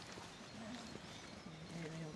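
Horse hooves clip-clop at a steady walking pace, a little distant, while people talk nearby and ambient outdoor noise fills the background.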